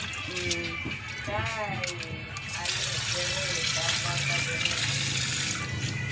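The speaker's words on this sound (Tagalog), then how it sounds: "Managhugas ang atong noodles guys." Noodles are rinsed under a running kitchen tap in a sink, the steady gush of water starting partway through and continuing to the end while a person talks over it.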